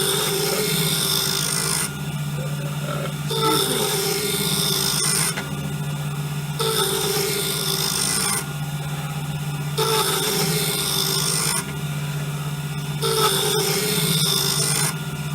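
A Wen wood lathe turns a wooden blank on a workbench, a steady motor hum under loud rasping bursts of the cutting tool that start and stop in a regular rhythm, close and alone.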